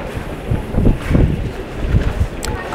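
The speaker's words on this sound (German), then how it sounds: "Oh, der Wind." Wind buffeting a microphone outdoors, a loud irregular low rumble in gusts throughout, with people talking quietly underneath.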